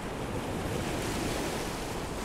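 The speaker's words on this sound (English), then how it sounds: "Sounds like the rustling of the water." Ocean water in the game Gloomwood washes and rustles as a continuous, dense surf-like roar, steady and fairly loud throughout with no voices.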